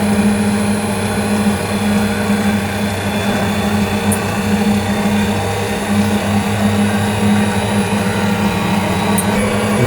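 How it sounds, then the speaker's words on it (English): A wind turbine emulator's motor generator set in a microgrid runs with a steady loud mechanical hum and whir, continuous and close with no talk. "Now switching on wind turbine emulator. Now we can see our motor generator service working."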